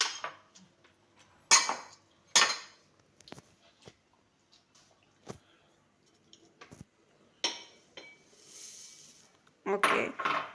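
Puffed rice tipped into a bowl as a quick kids' snack is prepared, giving intermittent dry rustling pours and light clinks of dish and spoon, close and separated by quiet gaps, with a voice briefly heard.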